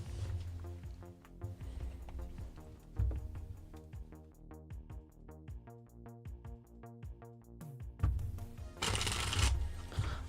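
Tarot cards are shuffled close by in repeated quick riffling bursts, crisp fluttering snaps with soft pauses between, ending in a louder bridge-like cascade.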